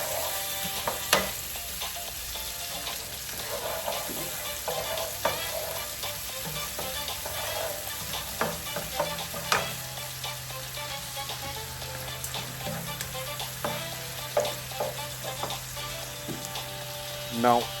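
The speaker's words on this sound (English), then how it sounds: "Now add chopped onion, stir oil just until soft and light brown." Chopped onion sizzles and fries in hot oil for a homemade fish curry, with a steady crackling hiss and occasional sharp pops and spoon-stirring clicks, close and continuous without talk.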